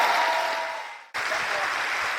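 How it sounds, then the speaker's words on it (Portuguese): A congregation claps at an evangelical church gathering. For about a second the applause is loud and dense, with voices or music faintly beneath, then it dips briefly before resuming. "aplauda o Senhor Jesus"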